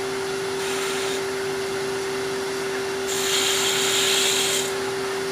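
Skew chisel rounding a wooden angel ornament on a lathe, a steady motor whine with a constant hum, and a brighter hiss of cutting that swells partway through.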